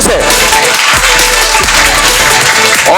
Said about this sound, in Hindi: अपने लिए तालियां बजाएं जोर से।